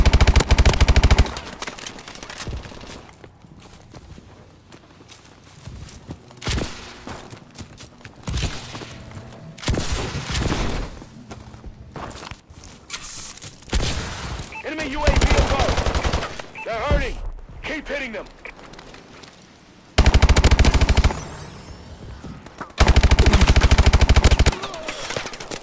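Gunfire at a shooting training session: a steady series of loud, sharp shots, some in rapid bursts, spread through the whole stretch, with occasional heavy blasts and a few voices in the background.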